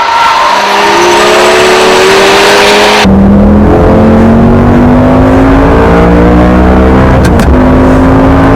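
Honda NSX-R race car engine screaming during a track battle, loud and close, with repeated climbing revs and sharp shifts, followed by an abrupt change to a second high-revving engine.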